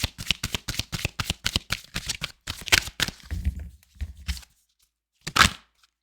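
Tarot cards are shuffled in a fast, evenly spaced run of crisp riffling snaps, followed by a few softer slaps and a single sharp card flip after a short silence, close and clear.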